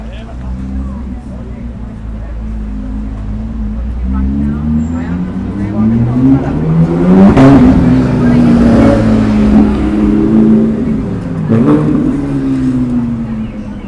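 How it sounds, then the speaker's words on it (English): Cars accelerating on a South Beach street in Miami at night, engines rising in pitch through several revving passes, loud and close, with a louder surge midway, under street background noise. "Nice acceleration on these cars."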